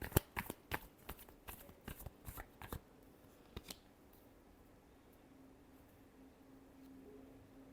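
Tarot cards are shuffled close by in a quick run of crisp riffling snaps, then a pause, a couple more flicks, and quiet room tone.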